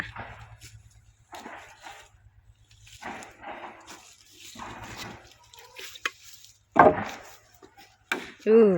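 Irregular sharp chopping strikes as wood is split for a charcoal kiln, several spaced blows with pauses between, fairly close, with faint background noise and a low hum.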